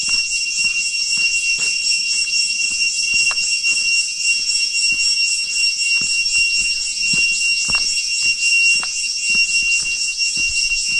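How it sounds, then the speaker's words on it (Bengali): Crickets chirp loudly and continuously along a road cut through a hillside, a dense high-pitched pulsing trill that never lets up, with faint scattered clicks beneath. "এত জোরে ঝিঝি পোকা ডাকছে,"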